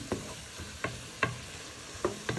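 Creamy Cajun prawn pasta ingredients are stirred in a frying pan, with a steady soft sizzle under a series of distinct spoon scrapes and knocks against the pan, close and moderately quiet.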